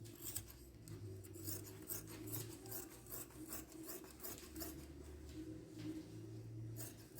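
Scissors cutting through fabric for a body cone short gown, a repeated rasping snip and rub of blades through cloth, close and quiet with no talking.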